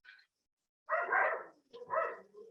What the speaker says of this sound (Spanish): tengo unos vecinos con unos perritos que justamente ahora están ladrando mucho